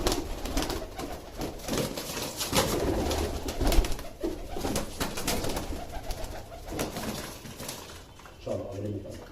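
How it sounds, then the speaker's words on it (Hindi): A Malwai female pigeon coos among other nearby pigeons, low rolling calls recurring over a busy, rustling background with handling noises, clearest near the end. "बहुत बढ़िया फेस की कबूतरी है ये मलवई"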